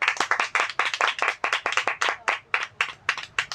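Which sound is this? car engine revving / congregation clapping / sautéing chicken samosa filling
congregation clapping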